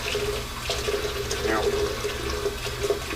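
Water runs and splashes at a bathroom sink as someone rinses lather off the face during a first shave, a steady close-up rush with small splashes and no talk.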